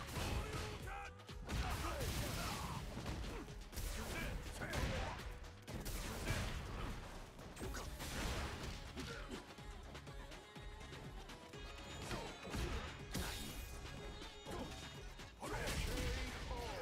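Loud, dense video game fight sounds from Street Fighter 6 as Ryu throws fireballs, with repeated crashing, thwacking impacts and bursts running continuously over busy game audio.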